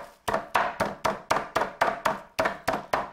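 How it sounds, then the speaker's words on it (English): A pork tenderloin is pounded flat in the kitchen, about a dozen sharp, evenly spaced thuds in a steady rhythm, close and fairly loud with no talking. "So now what I'm doing is just hammering this out."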